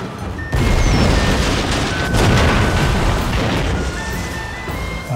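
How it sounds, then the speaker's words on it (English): Cannon fire and explosions from a naval battle between steam-powered ironclad warships in Total War: Shogun 2 erupt in a loud, sustained barrage of booms and crashes that starts suddenly and rolls on throughout. "Mighty steam-powered ironclad warships armed with torpedoes make naval battles much more destructive."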